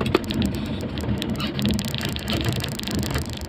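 Steady patter of rain heard from inside a moving car on a dim, overcast day, a dense hiss of drops with scattered sharper taps running throughout.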